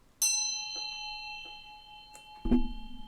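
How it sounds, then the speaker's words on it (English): A small bell or singing chime struck once to open a spiritual reading, ringing bright and sustained with long, slowly fading overtones. Softer taps follow, then a duller knock near the end. "let's go ahead and ring this bell"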